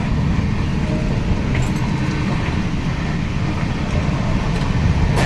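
Steady rumble of a long-distance passenger train running from Kalyan junction toward Jalpaiguri, heard from inside the carriage; continuous low, dense rattle and roar throughout with no voices.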